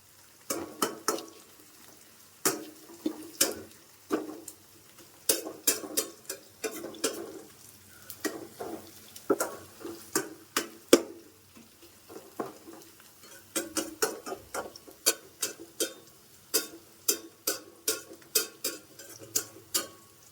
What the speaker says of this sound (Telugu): ఆనియన్స్ అయితే మంచిగా ఫ్రై అయినట్టుగా ఉంది